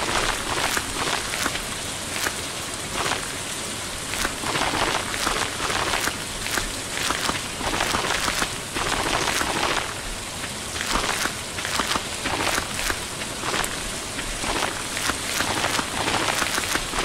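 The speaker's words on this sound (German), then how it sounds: "wenn wir sehen, wie viel es regnet im Herbst" Steady rain patters continuously on surfaces in the farming video game Stardew Valley during autumn, a dense hiss with soft drop ticks and no voices.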